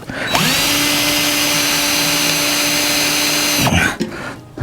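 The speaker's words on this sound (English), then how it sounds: "Yeah, this drill bit's duller than shit." A power drill with a dull bit spins up, whines steadily at high speed for several seconds, then winds down and stops.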